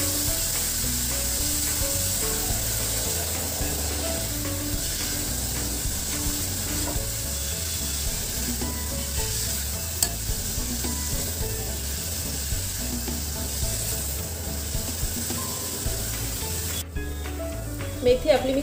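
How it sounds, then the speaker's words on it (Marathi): Fenugreek leaves (methi) sauté in oil in a pan, giving a steady broadband sizzle with soft stirring scrapes that run continuously at close range, with no talk over them. "एक साधारण मिनिटभर आपल्याला ही मेथी छान तेलावरती परतून घ्यायची आहे."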